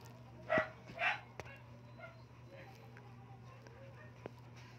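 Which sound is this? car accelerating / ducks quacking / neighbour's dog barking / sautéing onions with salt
neighbour's dog barking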